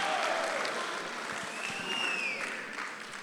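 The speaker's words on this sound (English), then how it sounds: "So everybody can give a round of applause for that." Applause from wedding guests during a toast at Poplar Springs Manor in Warrenton, Virginia, moderately quiet and fairly steady, with a faint whistle-like tone drifting over the clapping.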